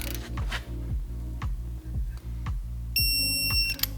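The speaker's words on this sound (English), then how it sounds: "we'll just tighten these guys down" Bolts on an F80 M3 AP Racing big brake kit are driven down with a power tool, a rapid series of short ratcheting bursts at a steady rhythm, close and loud, ending with a brief high whine.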